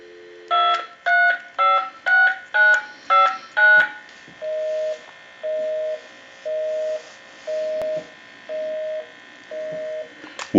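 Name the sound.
telephone dial tone and dialing on converted Galway crystal phone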